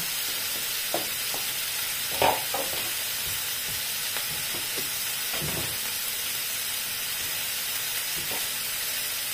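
Eggplant fries in a pan with onion for adobong talong, giving a soft steady sizzle and hiss with a few close clinks and scrapes from stirring.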